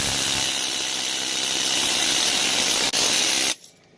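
A needle scaler chatters loudly and steadily at close range, a dense rapid buzzing rattle that cuts off abruptly near the end, leaving quiet.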